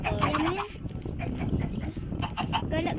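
Minecraft chickens cluck in short, scattered bursts amid game sounds, with a voice speaking briefly at the start.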